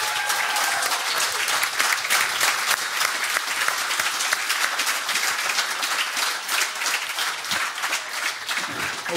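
Loud, sustained applause fills the room from a live audience at a hunting storytelling show in Lierne, dense clapping continuing steadily throughout.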